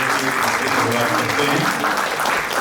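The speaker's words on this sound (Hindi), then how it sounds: "पहली बात तो एक हम ताली बजा के सब पूरे के पूरे कार्यक्रम" Audience applause at an evening launch event in a hall, a dense, steady wash of many hands clapping together at close range, sustained evenly throughout.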